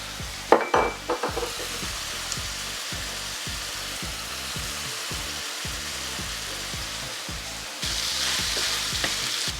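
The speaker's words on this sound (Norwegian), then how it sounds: "da lar vi den stå der og steke seg ned på den ene siden først" Sloppy joe meat frying in a hot pan, a continuous hiss with a few sharp clatters of a spatula at the start, the sizzle growing brighter and louder near the end.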